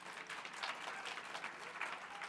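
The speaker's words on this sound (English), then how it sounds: "give yourselves a round of applause" Summit attendees in a hotel function room give themselves a round of applause after lunch, with quiet, fairly distant clapping that is dense and even and lasts a couple of seconds.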